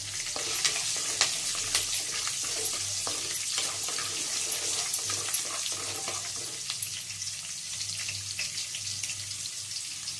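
Curry leaves crackle and sizzle in hot oil for brinjal rice, a steady dense frying hiss with sharp pops scattered throughout, close and fairly loud with no talking.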